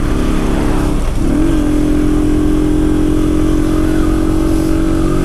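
A loud motorcycle engine runs steadily, its drone shifting slightly in pitch as it holds a constant rumble.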